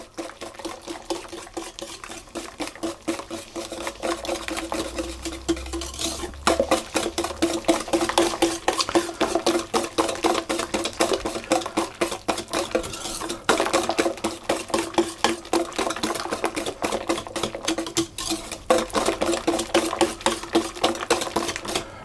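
Lemon juice, 240 millilitres, being mixed in a bowl for lemon squares, a steady rapid clatter of a utensil whisking and scraping against the bowl, continuous and close with no talk.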